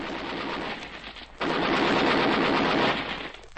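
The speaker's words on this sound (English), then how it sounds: "They've opened fire on him." Machine gun fire in an old-time radio air adventure drama: a dense rapid rattle of shots, a brief dip, then a louder sustained burst over a steady background roar.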